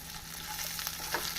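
Curry leaves and chopped green chillies sizzle steadily in hot oil for a black chickpea kulambu, a close, continuous crackling fry with a few brighter spits toward the end.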